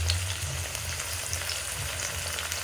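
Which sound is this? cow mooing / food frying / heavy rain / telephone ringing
food frying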